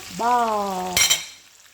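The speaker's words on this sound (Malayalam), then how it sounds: "മീൻ അടുത്ത ഭാഗം ഫ്രൈ ആകുമ്പോൾ ഈ മീനും ഒന്ന് ഫ്രൈ ആയി കിട്ടും" Ayala (mackerel) and onions frying in a pan: a sustained tonal whine with steady sizzle, then a brief crackling burst that fades into a quiet hiss.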